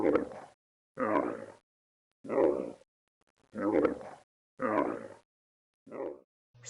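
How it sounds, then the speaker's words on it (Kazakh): A camel gives a series of six or seven deep, gruff bellowing grunts in a steady rhythm, each about half a second to a second long with brief pauses between, close and fairly loud. "Түйе боздайды."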